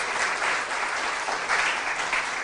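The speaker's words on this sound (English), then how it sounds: "A round of applause for this round and our contestants." Audience clapping for contestants at a quiz show, a continuous even round of applause with slight swells, fairly close and alone without talk.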